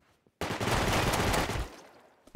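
Gunfire in the Rust video game: a loud, close burst of rapid automatic shots lasting about a second, cut off sharply, with a single further shot at the end.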